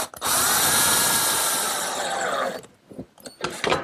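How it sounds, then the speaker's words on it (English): A power drill bores a pilot hole into a wooden jig in a woodworking shop, a loud whining burst of about two and a half seconds followed by a few short rattling knocks. "pre-drill a hole, and attach it with a screw"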